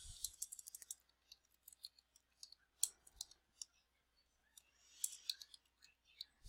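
Faint, uneven clicking of computer keyboard keys in scattered quick bursts with short pauses, like someone typing haltingly in a quiet room.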